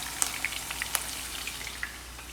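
Food frying in hot grease in a pan before a steak goes in, a quiet, thin sizzle with scattered light pops and spits.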